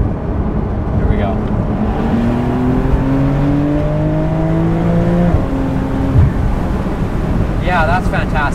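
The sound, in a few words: Porsche 911 Carrera S Cabriolet engine accelerating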